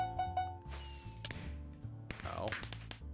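A firework rocket strikes the player during Minecraft survival multiplayer play, heard as dull thumps and whooshing game effects over a steady musical backdrop, with several sharp hits scattered through the few seconds.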